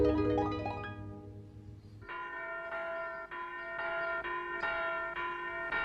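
A school bell rings in a herb garden, struck in a steady, evenly spaced series of bright, ringing tones that sound close and carry on through the clip, with no talk over it.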